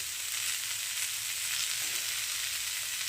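A large capsicum fries lightly in a pan with onions, giving a soft, even sizzle that holds steady and quiet throughout, with no voices over it.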